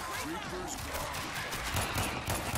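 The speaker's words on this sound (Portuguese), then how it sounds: "os tiros estavam contornando o zumbi, mas não matava eles" Gunfire in the zombie shooter World War Z, a run of rapid, muffled shots and bursts that sits fairly low beneath game ambience and player talk.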